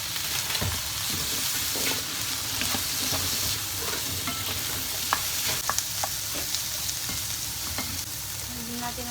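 Asparagus stir-frying in a hot pan alongside chicken breast, a steady loud sizzle broken by frequent clicks and scrapes of a utensil tossing the spears, continuous throughout.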